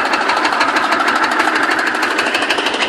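A forestry machine runs steadily while clearing a cut through storm-felled trees in a forest, its loud, continuous mechanical chatter and rapid knocking pulses filling the clip with no talk.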